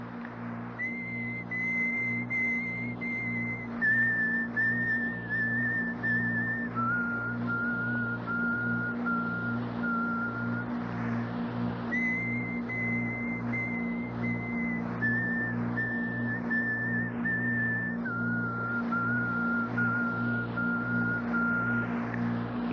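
A recorded whistle of a witch summoning a spirit, heard as a long run of clear, sustained whistled tones stepping down in pitch in repeated phrases over a low steady hum, with no talking.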